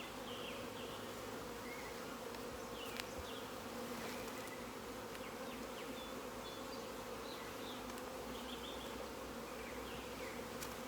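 Honeybees buzz in a dense, continuous drone around an open nucleus hive with brood frames, close and steady without pause.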